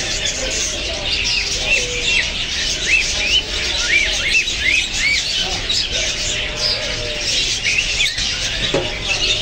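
Adult budgerigars and other pet birds chirp and warble in an aviary: repeated short rising chirps over a constant busy background chatter of many birds, with a low cooing note now and then.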